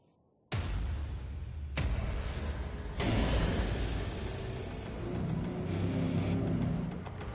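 A Citroën Aircross car engine driving, a steady loud drone that starts abruptly and swells in surges as it pulls and accelerates, with no talk over it.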